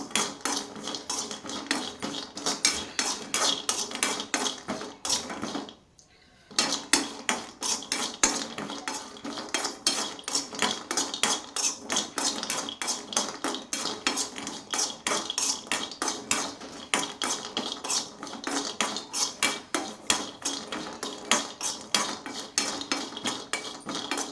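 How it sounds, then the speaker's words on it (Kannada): Small coconut pieces fried in a pan while a metal spoon stirs them, producing rapid, continuous scraping and clinking strokes over a light sizzle, with one brief pause near the middle. "ಕೊಬ್ಬರಿ ಫ್ರೈ ಮಾಡ್ಕೊಬೇಕು"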